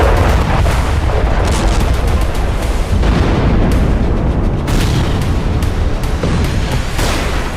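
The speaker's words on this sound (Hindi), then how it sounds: "इजरायली वायुसेना ने लेबनान के कई शहरों पर मिसाइल और बम बरसाए।" Heavy booms and blasts from Israeli air force missile and bomb strikes on towns in southern Lebanon, a dense, loud, continuous rumble with repeated sharp impacts and no speech.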